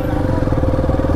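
Motorbikes boarding the Can Gio to Vung Tau ferry put out a steady, rapid pulsing engine putter, close and constant, with a voice faintly audible.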